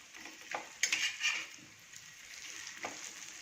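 Shipli vadi fritters turned over in a frying pan, a faint sizzle with a brief burst of louder crackle and a couple of soft utensil clinks, quiet and close with no speech.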